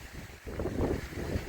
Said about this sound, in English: I think the wind will die down at some point